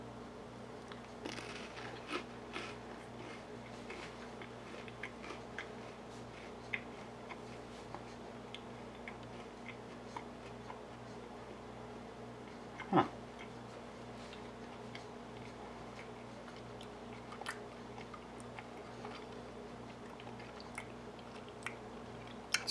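Someone chews Brunswick sardine fillets on Premium Plus salted top crackers: quiet, close, intermittent crunches and soft wet mouth clicks scattered over a low steady hum, with a sharper bite near the middle, and no talking.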